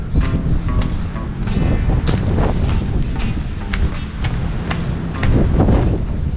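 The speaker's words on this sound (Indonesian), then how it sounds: "Anginnya kencang sekali" Strong wind buffets the microphone on the rooftop of an abandoned waterpark in Central Java, a loud, gusty rumble that swells and fades continuously.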